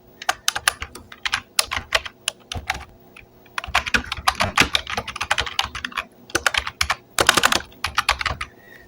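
Rapid clicking of computer keyboard keys as someone types a short phrase to finish a PowerPoint slide, bursts of keystrokes with brief pauses, close and clear with no talking.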